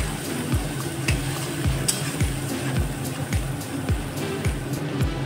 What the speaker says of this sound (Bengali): মশলাটাকে কষাবো।